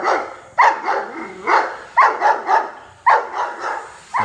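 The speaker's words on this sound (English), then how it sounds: "Got some doggies here." Guard dogs at a construction site in the Philippines bark in repeated bursts, several loud, close barks in uneven groups with brief pauses between them.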